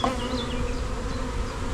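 Honey bees buzz steadily around an open hive during an inspection, a dense, continuous hum close by that holds level for the whole stretch with no voices.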